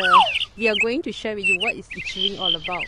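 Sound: birds chirping in autumn woods

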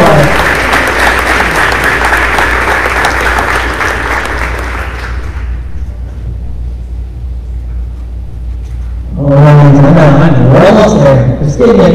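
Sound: audience applause for award recipient

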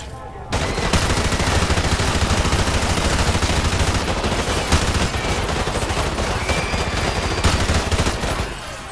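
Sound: gunfire during airport shooting in Modern Warfare Remastered video game

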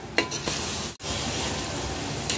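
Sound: tomatoes sizzling and being stirred in a pan

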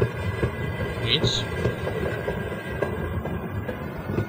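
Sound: train moving in video game Half-Life

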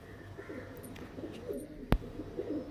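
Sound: Pakistani Teddy pigeons cooing

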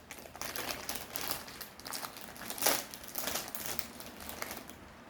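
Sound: tearing open a crinkly Pokémon bread wrapper

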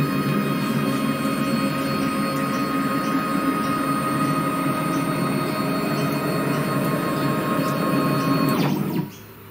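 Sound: homemade CNC router running a 3D test

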